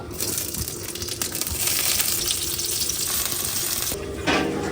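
Finely chopped onion and green chilli fry in a pan with a loud, continuous hiss and sizzle throughout, close by and with no talking.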